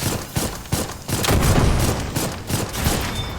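Gunshots ring out in the Dolls Nest water treatment level, a rapid burst of close, loud shots with several sharp cracks spread across a few seconds.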